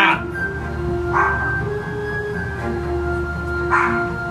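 A hound dog gives a few short yips and whimpering barks close by, spaced about every second and a half over a steady low background hum.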